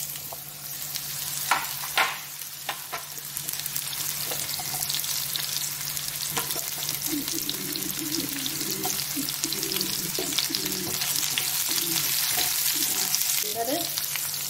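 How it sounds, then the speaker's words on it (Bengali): Mango pieces and nigella seeds frying in hot oil for aam kasundi, a steady close sizzle that runs throughout with a few sharp clicks and scrapes of stirring. "তাতে আমি কালো জিরে দিচ্ছি, তারপরে আমগুলো দিয়ে দিচ্ছি"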